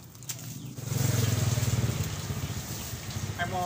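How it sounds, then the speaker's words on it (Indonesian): A motorcycle engine rumbles close by on a Sundanese street, rising in a steady pulsing drone that carries through the clip with faint background noise and no talk. "Motor ya."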